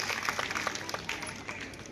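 Brief applause ripples through the audience at a school award ceremony honouring guests, a moderate spread of scattered claps that fades after a couple of seconds.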